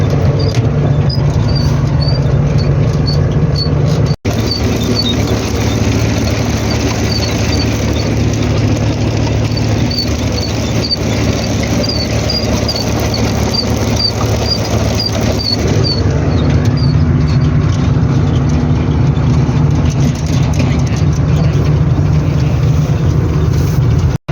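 A tractor engine runs with a seeder attached during spring sowing of barley and a grass mix, giving a loud, steady, unbroken drone close by throughout, with no talking.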